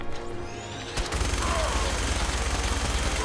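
Gunfire in Fallout 4: after a short lead-in, a sharp shot opens a continuous, loud, rapid automatic burst that runs to the end of the clip, close and dense.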